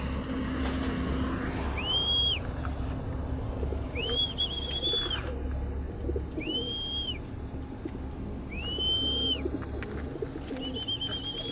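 Taiwan pigeons in a backyard pigeon house give repeated soft coos and calls at intervals over a steady low hum and faint traffic.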